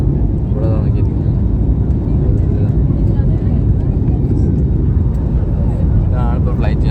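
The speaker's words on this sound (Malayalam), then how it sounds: "ഇതാണ് ഇപ്പോൾ ഫ്ലൈറ്റ് യാത്ര" Steady, loud engine and air roar inside a passenger airplane cabin during a flight, a constant broadband drone throughout, with faint voices murmuring beneath it.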